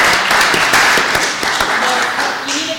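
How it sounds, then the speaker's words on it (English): Applause breaks out among attendees at a city council meeting, a loud burst of many hands clapping that carries on steadily and tapers slightly at the end. "You need to clap for those three right there."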